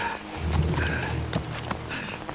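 A horse in the video game Metal Gear Solid 3 gives close, clopping hoofbeats that shuffle over a dense bed of in-game noise. Brief snorting sounds cut in and out.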